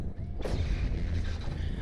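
A Tesla coil in the video game Abiotic Factor zaps a robot, a sudden loud crackling electrical burst that cuts in after a quiet moment and roars on continuously with heavy low rumble.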